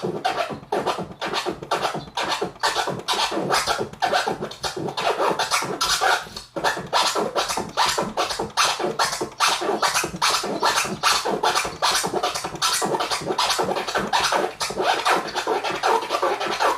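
Fast two-click DJ turntable scratches, each stroke chopped so it seems to carry an extra click, repeating in a rapid, dense rhythm for the whole stretch, loud and close with no voices.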